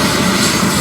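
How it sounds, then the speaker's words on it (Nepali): Helicopter flying overhead in Hawaii, a loud, steady engine and rotor roar held for under a second with no break. "यही हेलिकप्टरदेखि जाँदैछ"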